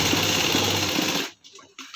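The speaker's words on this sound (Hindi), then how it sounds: "तो सिलाई हम लगाएंगे इस तरीके से और मजबूत करके सिलाई लगाना है आपको" An electric sewing machine stitches a reusable cloth shopping bag, a loud steady close whir for over a second before stopping, followed by faint handling sounds.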